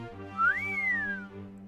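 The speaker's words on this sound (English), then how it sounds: "Snowspeeder let out a long whistle." A long whistled note glides upward, then slowly falls away over about a second, clear and alone above a soft, steady musical hum.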